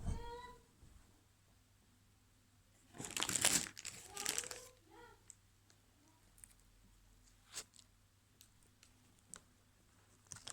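Plastic bag crinkling in a loud burst of rustling, then a few scattered crackles and soft clicks against a quiet background.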